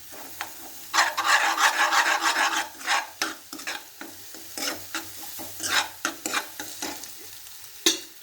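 A ladle scrapes and stirs vigorously through frying egg in an oiled pan, a run of loud rasping strokes at first, then irregular separate scrapes over a faint sizzle, with no voices.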